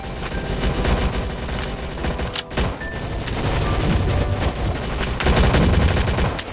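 Heavy, continuous gunfire in the Roblox war game Rolling Thunder, with dense automatic bursts and distant booms blending into a loud, unbroken battlefield barrage without talk.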